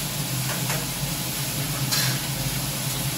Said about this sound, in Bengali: তো আমি আলু ভাজা দিয়ে দিলাম